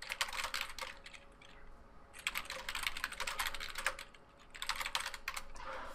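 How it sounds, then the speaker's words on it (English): Quick bursts of typing on a computer keyboard, close and fairly quiet, clattering in three clusters separated by brief pauses, with no voices. "I'm tired of typing to you."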